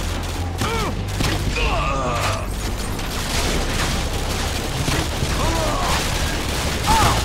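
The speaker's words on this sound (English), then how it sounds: "Use your grenade launchers!" Gunfire and explosive booms from grenade launchers in Call of Duty: Modern Warfare 2 form a dense, continuous battle din, with bursts of shots and mechanical clatter throughout and faint voices shouting amid the combat.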